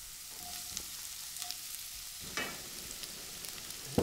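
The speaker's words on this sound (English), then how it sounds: "once the oil's nice and hot, add the onions, garlic and ginger" Onions, garlic and ginger frying in hot oil in a home kitchen, giving a steady, close sizzling hiss with a few small pops and clicks from start to finish.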